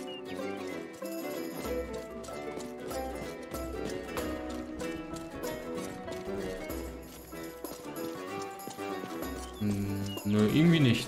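Horse hooves clip-clop in the medieval game Rustler, a steady rhythmic plodding under a continuous music track, with someone talking over it.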